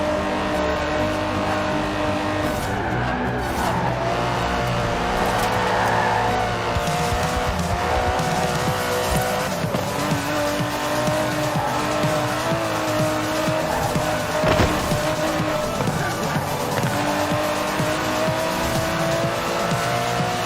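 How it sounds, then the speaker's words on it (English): Aston Martin DB11 driving in the video game Forza Horizon 4: a steady engine drone with shifting revs, tire squeal and skidding throughout, loud and close, with no talk. "The DB11 is not the fastest car in the world, but then it's not trying to be."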